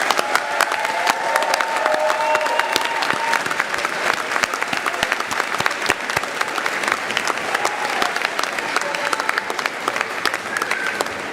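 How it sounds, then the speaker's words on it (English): Sustained applause from a convocation crowd honouring new graduates, a steady, full wash of many hands clapping at even loudness throughout. "Let's have another round of applause for these amazing people."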